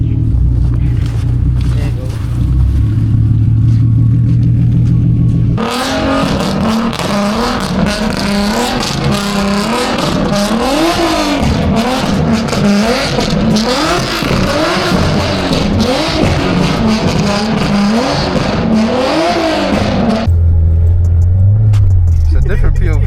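An Infiniti G37 drifting in a snowstorm, its engine idling low before rising into a long stretch of repeated loud revving that climbs and falls in pitch, then settling back to idle, with voices talking over parts of it.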